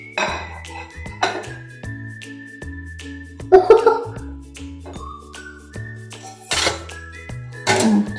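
A knife cuts a homemade butter cake on a plate, giving light clinks and scrapes against the plate in a few short bursts amid background music.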